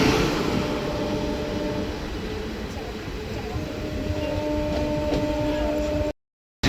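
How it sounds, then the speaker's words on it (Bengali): Aranyak Express runs past the SMVT Bengaluru–Howrah Superfast Express, giving a steady rumble of wheels on track with faint whine tones over it. The noise cuts out briefly near the end, then returns. "আরণ্যক এক্সপ্রেস ওভারটেক করলো SMBT Bengaluru two Howrah superfast"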